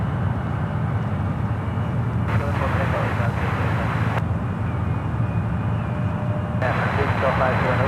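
An EVA Air Boeing 777-300ER heavy jet rolls for takeoff at San Francisco airport, its engines a steady broad roar at a distance, while an air traffic controller's radio voice comes and goes over it.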